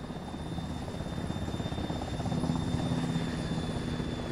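A helicopter in a military video game flies nearby with a rapid, rhythmic rotor chop that grows slightly louder midway and keeps pulsing steadily, with no voices.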